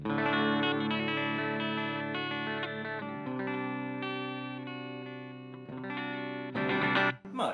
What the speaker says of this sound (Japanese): いわゆるジャズコな音なんだけど